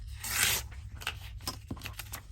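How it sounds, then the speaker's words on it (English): Paper or craft material being torn by hand while making loaded Christmas bags, a short rough rip near the start followed by several softer rustling tears and handling scrapes, close and fairly quiet. "Tear that way."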